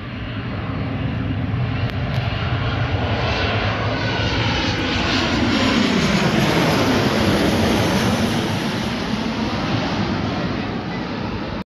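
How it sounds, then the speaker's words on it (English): A Pioneer Australia BAE 146-200 jet lands at night, its engines producing a loud, continuous roar with a broad whooshing sweep throughout as it passes near. "Coming in now is a Pioneer Australia BAE 146-200."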